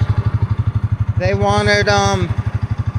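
A 14-year-old Honda Rancher ATV idles with a loud, rhythmic exhaust thump after its original muffler failed, a steady low pulsing throughout while someone talks briefly over it.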